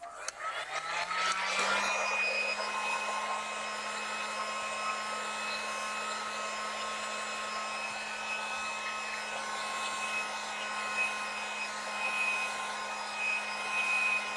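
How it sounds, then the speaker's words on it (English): A heat gun spins up and blows steadily over watercolor paint, a constant whooshing hum with a high whine, close and loud, running alone throughout. "All right, heat gun."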